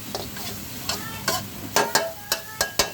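Fish stir-fried with curry paste sizzles in a pan while a spatula scrapes and knocks in a series of sharp strokes that quicken toward the end.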